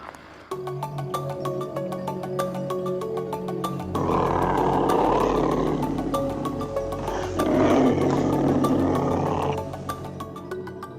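A tiger gives loud, rumbling roars in two long surges, rising and falling over a steady tonal drone that continues throughout.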